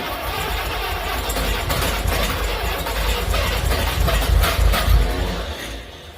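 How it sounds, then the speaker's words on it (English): A Willys L134 Go Devil flathead engine cranks on its starter, a loud, continuous mechanical churning with a rough low rumble that swells slightly toward the end before dropping off. "I think the engine's actually starting to spin as fast as the starter."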